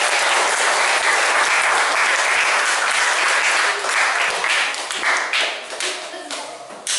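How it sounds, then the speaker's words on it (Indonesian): Hearty applause for a school from an audience at a gathering, dense close clapping that holds strong for several seconds, then thins and fades toward the end. "Tepuk tangan untuk MI kita."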